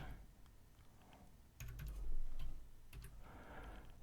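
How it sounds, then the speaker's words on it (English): A serial number is typed on a computer keyboard while configuring a Vantage touchscreen: soft, quiet key clicks in scattered short runs, with a few sharper taps standing out. "I'm just going to type it in since I know what it is."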